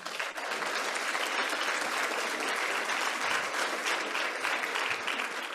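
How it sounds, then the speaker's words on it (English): A Rotary Club of Fort Worth audience applauds family guests being introduced, a steady, dense wash of clapping from many hands that holds evenly throughout with no voices above it. "now we have to applaud for every one of them, one by one"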